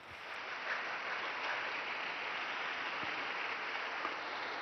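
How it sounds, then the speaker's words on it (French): A large crowd of faithful and pilgrims at the Angelus gathering in Rome applauds the newly beatified Jean-Baptiste, a steady distant wash of clapping that holds evenly throughout. "Je vous demande d'applaudir le nouveau bienheureux Jean-Baptiste."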